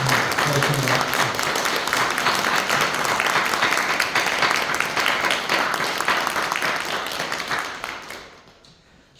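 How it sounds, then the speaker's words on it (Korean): A church congregation at a Sunday service applauds in a dense, steady wash of clapping that holds for about eight seconds, then fades out to near silence. "큰 박수 부탁드립니다"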